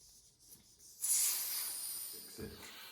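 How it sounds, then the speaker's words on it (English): Air hisses steadily out of a bicycle tyre's inner tube after its valve core is removed during a puncture repair. The hiss is close and sustained, starting abruptly after a quiet moment and staying strong to the end. "And now we're going to let the air out."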